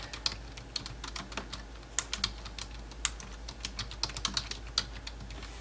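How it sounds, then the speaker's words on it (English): Computer keyboard typing, a quiet, irregular patter of key clicks with a few louder taps, heard close up with no one talking. "double click back into it and type out your wording that you'd like"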